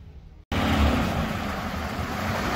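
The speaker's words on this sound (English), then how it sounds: "Listen to that Wildcat engine." Wildcat V8 of a 1966 Buick Electra 225 convertible at a GM car show, starting up with a sudden loud roar that settles into a steady, close, rumbling idle after a brief quiet moment.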